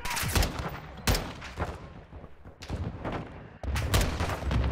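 Bursts of gunfire in the video game Modern Warfare 2, loud and repeated in rapid volleys with sharp onsets, a dense layered firefight with a sudden heavy burst near the end.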